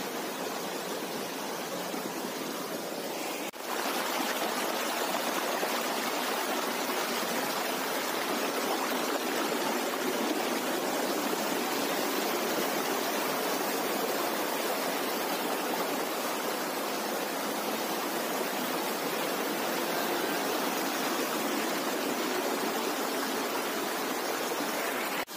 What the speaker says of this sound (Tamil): அந்த பாறையில் வந்து தண்ணி விழுகக்கூடிய இந்த ஒரு சின்ன குட்டி ஃபால்ஸ் மாதிரி இருந்துச்சு